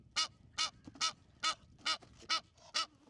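A female goose of an unusual farm breed squawks loudly in seven sharp, evenly spaced honking calls, close and clear with no talk over them.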